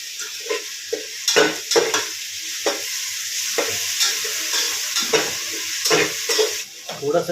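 Ginger garlic paste sizzles and fries in oil in a home kitchen while being stirred, with steady close crackling and repeated scraping stir strokes against the pan.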